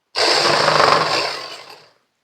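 Sewing machine running a short burst of stitching along a belt's existing seam line, a steady close mechanical whir that starts abruptly, holds for under two seconds and trails off.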